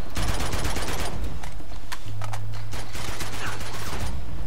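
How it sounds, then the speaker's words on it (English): Rapid automatic gunfire from a firefight in Uncharted 2, loud and close, with sustained bursts of shots cracking in quick succession throughout and hardly any talk. "Who's shooting at me?"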